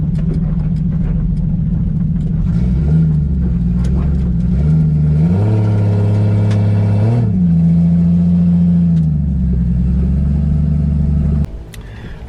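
A 1JZ-swapped Ford Mustang Fox Body launching down a drag strip on a test pass, engine droning loud and close, climbing in pitch through several gear changes before cutting off abruptly near the end.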